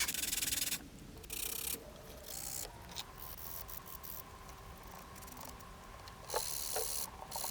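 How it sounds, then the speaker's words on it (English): Foam pieces for a Hordak figure base are smoothed with a file and sandpaper, giving a steady, close abrasive rasping and rubbing that runs in strokes and short pauses throughout, with no voices. "neatening those up a little bit, just with a file and a bit of sandpaper, which is what I'm doing here"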